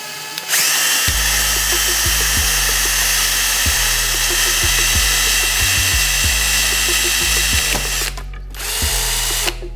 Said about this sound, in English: I'm just going to drill 2 holes